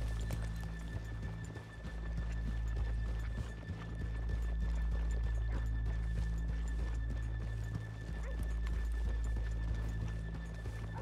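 Horse hooves clip-clop steadily in Red Dead Redemption 2, a continuous rhythmic trot close up over a low ambient rumble, with a brief whinny-like sound and no talking.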